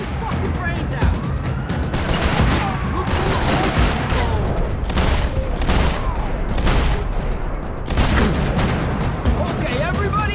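Dense gunfire in the Max Payne 3 shooter game on PC, continuous bursts of shots and booms filling the whole stretch, loud and close, with voices shouting through the chaos.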